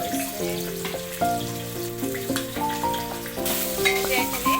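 Chopped onions fry in a pan for pulao, a steady crackling sizzle with stirring, partly masked by louder background music throughout.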